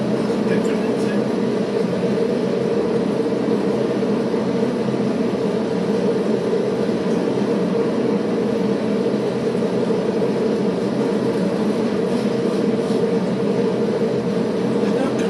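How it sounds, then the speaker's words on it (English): Tram rolling along its track on a Munich route in a tram simulator game, giving a steady, continuous mid-range rumble with faint hiss throughout, even and unbroken. "it's just a tram on a track, you know"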